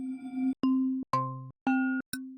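A bell-like synth patch from the Collision synthesizer, set up for a tech house track, plays five separate sustained tones with short gaps between them, each striking cleanly and ringing briefly, clear and alone.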